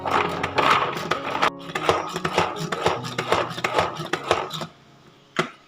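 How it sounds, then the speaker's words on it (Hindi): Rapid, rhythmic knife chops strike a cutting board as garlic and ginger are chopped, a steady flurry of close, crisp thuds that pauses once and ends with a final tap. "तो चलिए सबसे पहले मैं लहसुन अदरक को चॉप कर लेती हूँ।"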